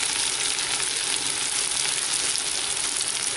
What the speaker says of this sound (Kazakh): Баклажанды 14 минут қуырдық